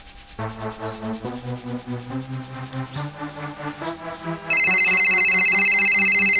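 A telephone ringtone plays a repeating melodic tune of sustained tones, loud and close, with a brighter high-pitched layer joining near the end; no one speaks over it.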